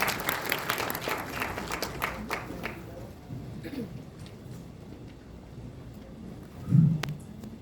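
Applause from the audience at a university graduation ceremony, a dense wash of clapping that fades over the first few seconds and leaves quieter room noise with a brief thump near the end.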